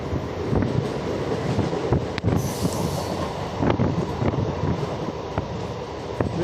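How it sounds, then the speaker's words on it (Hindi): Shaktinagar–Varanasi Intercity Express running through hilly country, a steady loud rumble of wheels on rail with regular clacks and wind buffeting the microphone, no voices. "पहाड़ों के बीचों बीच पहाड़ों को चीरते हुए जा रही है हमारी ट्रेन"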